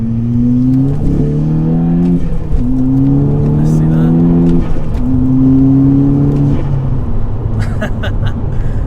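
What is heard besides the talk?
VW Golf GTI Edition 30 accelerating hard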